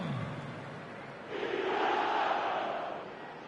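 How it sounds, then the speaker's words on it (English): Stadium crowd in the eFootball 2026 video game swells into a broad, sustained chant and roar that builds after about a second and holds steady, loud and distant-sounding without any talk over it. "The crowd are calling for this to be put to bed."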